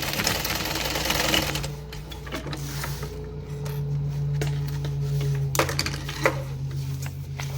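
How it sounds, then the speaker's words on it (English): A sewing machine stitches a garment's facing and pocket together, a steady mechanical hum with rhythmic needle clatter running continuously close by, pausing briefly near the end. "you want to sew the facing and the pocket together"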